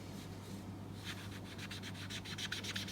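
Sponge dauber rubbing ink onto a coin, a soft scratchy scrubbing that begins after a quiet second and repeats in quick strokes over a steady low hum.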